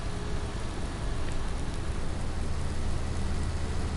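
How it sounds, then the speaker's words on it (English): Continuous rain in Farming Simulator 19 patters in an even, broad hiss of falling drops, holding at a steady level throughout without any speech. "I love rain."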